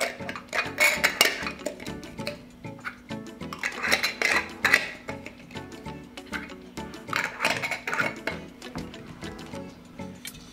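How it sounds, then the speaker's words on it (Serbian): New lids go onto glass jars for canning, with bright clinks and ticks of metal against glass in short irregular bursts, close by and fairly quiet. "Tegle zatvorite sa čistim i novim poklopcima."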